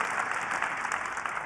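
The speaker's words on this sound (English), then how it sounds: "Big round of applause." An audience at a tech conference opening keynote in Las Vegas applauds, a brief, even burst of dense clapping filling the hall.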